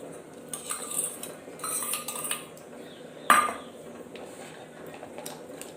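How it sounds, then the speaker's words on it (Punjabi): A spoon presses and mashes soaked tamarind through a metal strainer, producing quiet scraping and rubbing sounds with one sharp clink of metal partway through. "ਇਸ ਤਰ੍ਹਾਂ ਆਪਾਂ ਇਹਨੂੰ ਚਮਚ ਦੇ ਨਾਲ ਉੱਪਰੋਂ ਚੰਗੀ ਤਰ੍ਹਾਂ ਮਸਲ ਮਸਲ ਕੇ"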